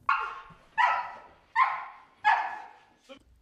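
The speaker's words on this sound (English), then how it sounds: "Both dogs are Belgian Malinois" Belgian Malinois police K-9 dogs barking: four loud, evenly spaced barks close by, ending in a short yip.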